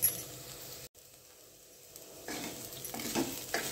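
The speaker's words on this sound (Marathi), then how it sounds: "आपण भेंडी परतवत आहोत।" Okra stir-fried in a pan over a medium flame gives a soft, steady sizzle with faint scraping stirs, briefly cut off near the start before the frying hiss builds back, close and quiet with no voices.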